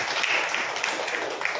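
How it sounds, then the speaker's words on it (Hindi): A church congregation applauds, a steady wash of many hands clapping together at moderate loudness with no pauses. "बजाओ ताली"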